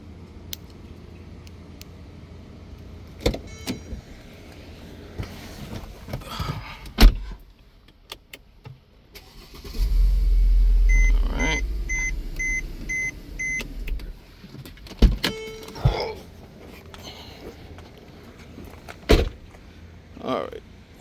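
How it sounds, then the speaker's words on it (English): Car door locks on a 2010 Mercedes-Benz E350 actuate with a mechanical whir and clunk, followed by a short series of beeps; a person talks and moves around nearby. "So we're gonna go ahead and lock the door."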